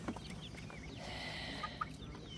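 Chickens and roosters cluck softly in a coop, with faint, brief calls scattered over a low background hum.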